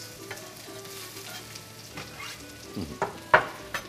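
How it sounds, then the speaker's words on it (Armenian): Onions sizzle in hot oil in a pan, a close, continuous crackle with several sharper stirring scrapes and bursts toward the end. "ձեթը լավ դաղեցինք, պատրաստում ենք սոխարած։"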